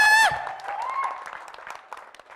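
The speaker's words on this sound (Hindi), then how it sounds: "तालियां, तालियां" At a company anniversary seminar, a brief sustained electronic tone gives way to faint, sparse hand clapping from the audience that trails off quietly.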